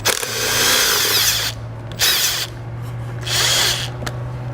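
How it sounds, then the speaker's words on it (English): Power tool, likely an impact driver with an 8mm socket, removing a bolt while a tow bar base plate is fitted to a 2015 Ford C-Max; three loud close bursts of whirring separated by short pauses, over a low steady hum. "We're then going to remove the bolt located behind the panel we just cut with an 8mm"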